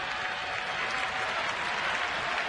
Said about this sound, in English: now the fans should start that rhythmic applause